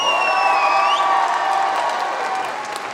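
Audience at a cosplay contest in Lorient applauding a participant, loud steady clapping with cheering, whoops and high excited shouts riding over it, slowly easing off toward the end.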